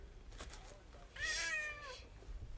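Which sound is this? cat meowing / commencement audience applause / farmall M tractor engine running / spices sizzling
cat meowing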